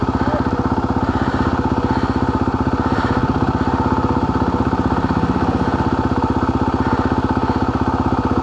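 Motorcycle engine on a trail, a loud close steady chugging drone with constant rapid firing pulses and little change in revs.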